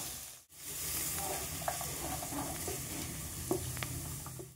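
Cashews and raisins with fried rice stir-fried in oil in a wok give off a steady sizzle, broken by a few sharp clinks and scrapes of the spatula, close and alone.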